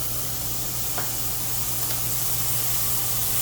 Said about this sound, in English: After the butter's in there, we throw in the shallots,